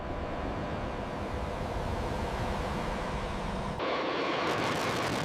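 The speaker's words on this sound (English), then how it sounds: "The B-52 retracts its landing gear and begins its climb into the sky." A B-52 heavy bomber takes off with a steady, broad jet roar that holds at a moderate distance and shifts in tone near the end, with no voices.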